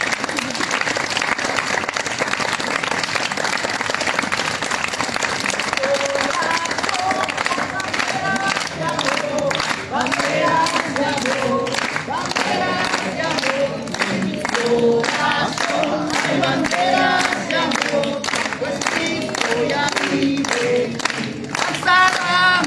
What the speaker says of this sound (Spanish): Todos aplaudiendo, todos.